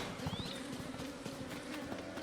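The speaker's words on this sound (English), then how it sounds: "The bees are still chasing me." Swarming bees from The Legend of Zelda: Tears of the Kingdom drone in a steady, close buzz that fills the whole moment, with a brief rising whine near the start and no talking.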